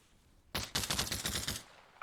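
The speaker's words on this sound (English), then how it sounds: "You can hear a lot of gunshots coming from that direction." Gunfire in a modded military shooter video game, a burst of rapid machine-gun shots erupting suddenly and rattling for about a second before fading, heard at mid distance.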